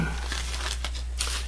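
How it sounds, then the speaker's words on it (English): A plastic bag holding model rocket kit parts crinkles close up in short rustling bursts, with no talk over it. "you have the plastic bag that contains all the nice pieces that we need in order to make this thing work."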